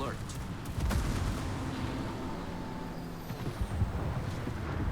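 Battleship guns firing blind in World of Warships from the USS Tennessee: a low, rumbling naval gun salvo and its lingering roar at moderate loudness, with a voice speaking over parts of it.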